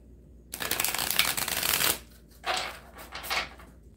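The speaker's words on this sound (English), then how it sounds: "So I'll just go ahead and do some shuffles." Cards being riffle-shuffled up close, a long crisp burst followed by two shorter riffles, with nobody talking.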